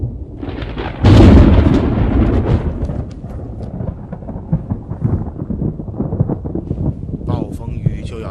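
A heavy crack and rumble of thunder from an approaching storm bursts loudly, then rolls on under gusting wind with scattered crackles; a voice speaks near the end.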